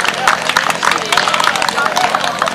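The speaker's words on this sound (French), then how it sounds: "on peut l'applaudir avant qu'il commence" Clapping and cheering from a small gathering at a dog's party, a steady burst of applause with lively crowd noise filling the room throughout.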